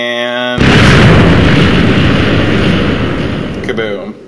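A mine blows up in a Minecraft game of minesweeper: a single loud, booming explosion bursts in suddenly, then rumbles and fades over a few seconds.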